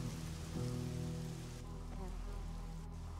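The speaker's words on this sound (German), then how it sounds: "Müsste jetzt der Regen auch schon langsam aufhören." Rain falling in the video game Risen, a faint steady patter and hiss of rain on surfaces running quietly under a low tonal game backdrop, with no talk.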